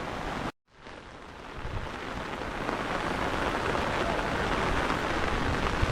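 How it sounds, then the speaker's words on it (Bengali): Heavy rain pours down steadily near the Udayagiri and Khandagiri caves, a dense, continuous hiss with a brief dropout near the start before the downpour resumes evenly and loudly. "এখন বৃষ্টি আরও বেড়ে গেছে, প্রচণ্ড এখন বৃষ্টি হচ্ছে।"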